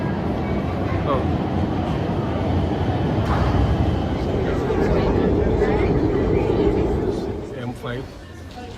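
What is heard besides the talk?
Milan metro M3 train arriving at station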